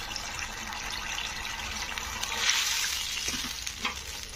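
Water is poured into a pan of frying vermicelli upma, producing a steady hissing sizzle and splashing that swells midway, then settles into bubbling with a few small clinks.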